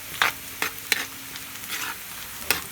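Garlic and onion sauté in a pan for pancit palabok, giving a soft steady sizzle with several sharp scraping stirs of a utensil against the pan, close and alone with no talking.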